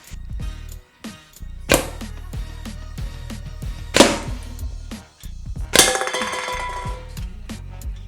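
Homemade blow darts strike a target at close range, producing a few sharp, ringing clangs with short metallic decays, separated by quiet gaps.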